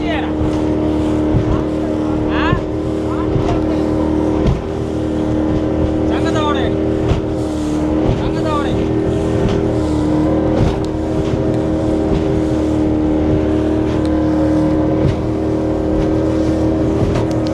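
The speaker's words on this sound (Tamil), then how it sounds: "எதிர்காற்றுல படகு பயங்கர ஹைட்டு ஏறி ஏறி இறங்குதுங்க" A small boat's outboard engine drones loudly and continuously with wind and water noise, rising and falling slightly as it rides rough waves in a headwind off Analaitivu Island, Sri Lanka.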